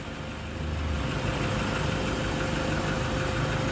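A 4x4 vehicle engine idles at an off-road repair workshop, a loud, steady, close rumble with dense mechanical vibration that holds evenly throughout.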